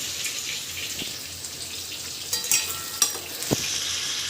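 Paneer fries in oily spice masala in a pan, a steady close sizzle with a few sharper bursts and stirring knocks toward the end, no one talking.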